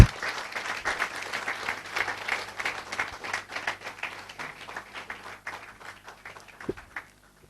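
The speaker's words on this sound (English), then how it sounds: "can we have a bigger round of applause for Jasmeet?" Audience applause for Jasmeet Sandhu, IAS rank 3, at an IAS Gurukul session: dense, steady clapping from a seated crowd that gradually thins and fades out near the end.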